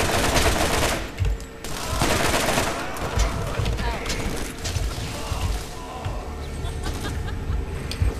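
Dense gunfire crackles without pause through a Borderlands video game firefight, loud and close, with rapid bursts and mechanical clatter. Voices talk intermittently over the shooting.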